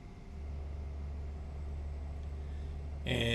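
Steady low truck engine drone from an engine sound mod in American Truck Simulator, a Superliner idling near 1500 RPM, droning evenly throughout and swelling louder with a brighter burst at the very end.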